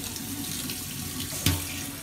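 Water runs from a newly fitted kitchen mixer faucet with a steady, soft hiss, broken by a single brief clunk partway through as the handle is moved to hot.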